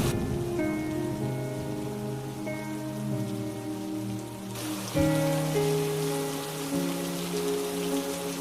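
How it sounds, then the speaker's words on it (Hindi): Heavy rain pours down over a village, a steady hiss of drops running beneath sustained musical tones, continuous and without talk. "दिनों बाद गांव में भयंकर बारिश शुरू हो गई"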